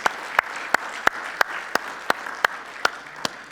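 Church congregation clapping, with sharp, evenly spaced claps landing about three times a second over a soft background hum, as if the crowd claps in unison to a beat.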